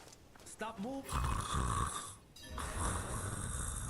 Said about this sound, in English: Snoring's pretty loud.